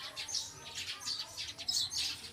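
Several birds chirp in repeated bright bursts outdoors in a quiet Bisaya-speaking neighborhood, fairly close and steady over faint background hiss, with no talking.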